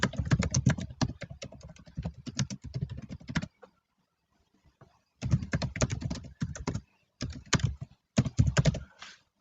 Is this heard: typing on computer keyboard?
yes